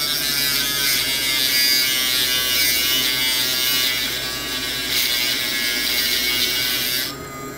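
A tungsten electrode for an Orion welder is ground to a sharp point on a grinder, giving a steady, high-pitched buzzing whine that holds for several seconds with slight dips as the electrode is turned.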